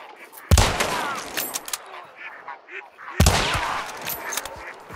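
Two loud, sharp gunshots in Hunt: Showdown, roughly three seconds apart, each trailing off into a long echoing tail across open ground.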